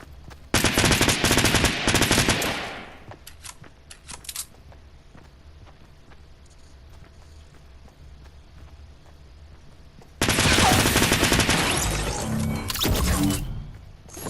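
Two loud bursts of rapid gunfire in Fortnite, one at the start and another near the end, separated by quiet ambient game noise with a few faint clicks.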